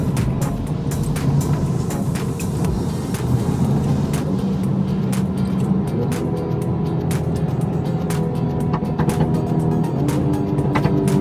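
A tuned BMW F30 340i with a Stage 3 xHP transmission tune, in Sport Plus, revs steadily and loudly, its engine note holding a continuous drone with quick upshift changes, close and alone without talk.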